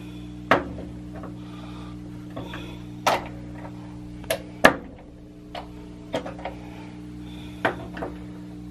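Screws on a Ludwig L-shaped bass drum cymbal stand shell mount are tightened in a series of sharp, isolated metallic clicks and taps, close and fairly crisp, spaced irregularly over a quiet background.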